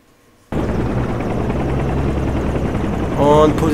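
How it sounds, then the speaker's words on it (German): A Bell helicopter in the X-Plane 10 flight simulator, its steady rotor and engine drone starting abruptly after a brief quiet moment and swelling slightly toward the end, with a faint voice in the background. "Helikopters. Nehmen wir die Bell."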